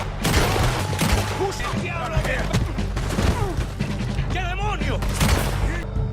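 A shootout in the Western game Red Dead Redemption 2: dense, continuous crackling gunfire mixed with crashes and booms. Voices talk over it throughout.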